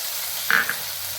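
Onions fry in a pan over medium heat, giving a steady soft sizzling hiss that is broken midway by a brief high squeak.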